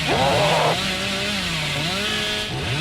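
A chainsaw revs in the video game Dead by Daylight, a loud, sustained buzzing engine whine whose pitch rises and falls, heard alone and up close.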